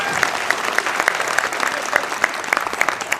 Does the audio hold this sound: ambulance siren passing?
no